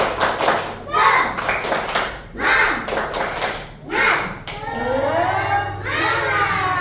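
Schoolchildren in a classroom do a rhythmic group clapping chant, with several loud, closely spaced bursts of clapping followed by the class voices chanting in unison.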